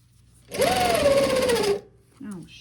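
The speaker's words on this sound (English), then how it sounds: "give a little pull with it as you're sewing it around" A sewing machine runs in one steady burst of a little over a second, stitching stretchy pant fabric while skinny pants are altered, then stops with a short softer whir.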